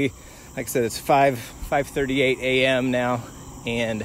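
A constant thin trill of crickets carries through a dark, humid pre-dawn outdoors, sitting faintly under nearby male speech throughout.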